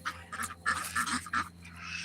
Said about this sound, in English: These are Muscovies, Akana ducks.